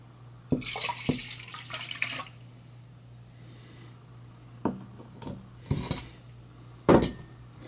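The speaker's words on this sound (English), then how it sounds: "I'm going to fill the pitcher with the water." Tap water poured from an Erlenmeyer flask into a pitcher, with sharp glassy clinks and knocks, a brief splashing rush early on, then scattered taps and clunks over a low steady hum.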